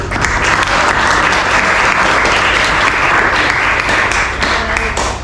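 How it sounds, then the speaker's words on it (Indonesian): Sustained audience applause at a research presentation event, dense steady clapping from a large group filling the whole stretch without pause. "Kita berikan tepuk tangan dulu"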